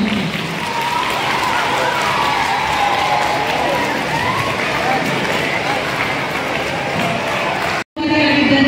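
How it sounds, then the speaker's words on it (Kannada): Sustained applause and crowd noise at a karate awards ceremony roll on for several seconds, a dense clapping wash that cuts off abruptly near the end. "ಜೋರಾದ ಚಪ್ಪಾಳೆಯೊಂದಿಗೆ ಸಾಧಕರನ್ನು ಸನ್ಮಾನಿಸೋಣ."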